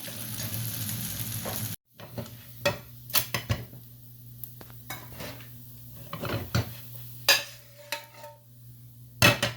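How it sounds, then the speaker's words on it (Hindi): Semolina paratha fries in oil with a steady close sizzle, punctuated by repeated clanks and scrapes of a utensil against the pan. "चलिए अब इसी ऑयल में पकेगा, जैसे गोल्डन होता है"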